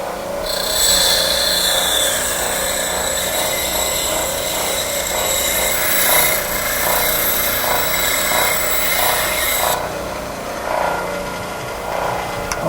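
A loud, continuous power tool whines and grinds, trimming wood close to a zither frame, with a steady buzzing hum that shifts slightly in pitch and cuts off near the end.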